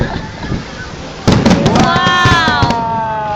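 Fireworks burst over the bay at a pyrotechnics show, a sudden loud booming crackle after a stretch of crowd murmur, followed by a sustained rumble and whistling tones, with people talking throughout.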